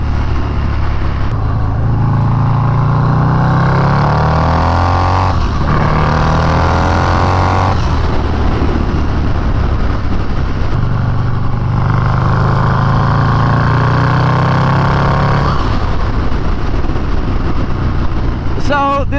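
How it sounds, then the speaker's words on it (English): A turbocharged Harley-Davidson motorcycle accelerates hard on a highway, its engine note climbing repeatedly through the gears with brief dips between shifts, loud and close under constant wind roar. "let's go on the highway and see how this thing does getting up to highway speeds"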